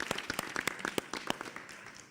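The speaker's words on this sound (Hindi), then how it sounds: "तालियां बजती रहनी चाहिए।" Scattered, fairly quiet handclaps from a small studio audience at a televised poetry show, individual claps distinct and irregular rather than a dense roar, brief and alone.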